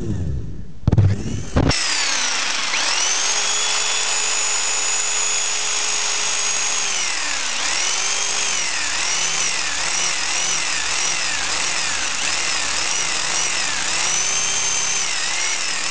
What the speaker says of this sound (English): we will drill a small hole right in the centre of where we've ground the paint off